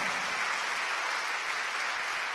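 A church congregation clapping during a sermon, dense steady applause from many hands filling the room without pause, with no voices standing out.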